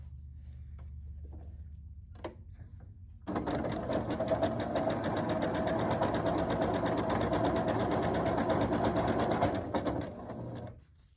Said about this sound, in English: I'm going to now sew along the other side of the drawn line